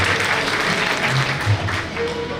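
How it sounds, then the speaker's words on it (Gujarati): Audience clapping at a prize-giving ceremony for students, welcoming an organiser: a dense, steady patter of many hands throughout, fairly loud, with some voices murmuring underneath. "એને એકવાર તાળીઓના ગણગણાટથી વધાવી લઈએ"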